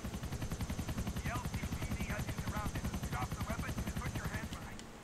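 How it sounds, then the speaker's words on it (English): Helicopter in Grand Theft Auto IV, a loud, steady rotor chop pulsing evenly throughout, mixed with scattered bursts of gunfire during a bank robbery shootout. "There's a helicopter coming up here that we're gonna have to take out."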